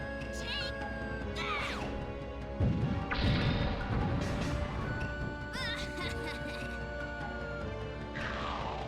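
Wheel of Fire attack from the InuYasha video game, with sweeping whooshing effects and heavy crashing impacts over game music, a loud burst in the middle amid a busy battle.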